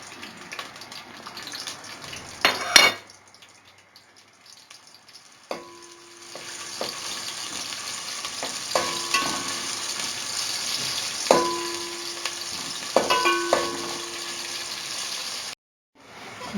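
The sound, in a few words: onions browning in ghee for pulao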